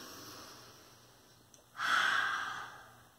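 A single breathy snort-like sniff, fairly close, rising sharply then fading over about a second after a quiet stretch; a voice imitating a pig sniffing.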